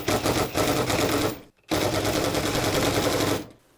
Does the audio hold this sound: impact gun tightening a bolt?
yes